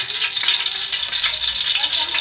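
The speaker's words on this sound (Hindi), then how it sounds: "तो हम गोभी पका रहे हैं" Cauliflower cooks in hot ghee in a pot, giving a steady, close hiss and sizzle of frying that runs unbroken throughout with faint clatter.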